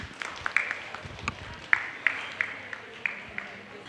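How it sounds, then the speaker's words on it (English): A short burst of scattered clapping from a small audience at an in-person panel event in Bangalore, light and irregular, with faint background murmur. "huge round of applause for our panelists"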